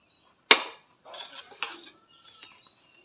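Hot homemade cough and cold remedy strained from a pan into a glass in a home kitchen: a sharp metallic clink of utensil on vessel, then brief scraping and pouring clatter, close and clear.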